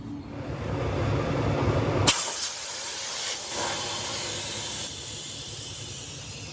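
Compressed air hisses loudly from a disconnected truck air suspension bag hose, a sudden strong burst that then continues as a steady, close, broadband rush with no talking.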